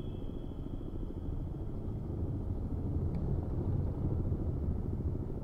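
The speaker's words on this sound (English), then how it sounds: "Oh, I can hear the helicopter moving again." Helicopter moving in a submarine video game, a steady low rotor-like rumble holding throughout alongside a faint high tone, with no talk.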